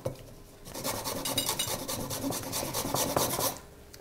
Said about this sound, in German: Ich reibe den Ingwer immer mit der Schale.